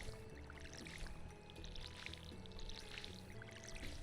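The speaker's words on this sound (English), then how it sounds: "Listen to that watering can noise." A watering can pouring water in a farming video game, a soft, steady trickling splash that runs continuously, faint and alone.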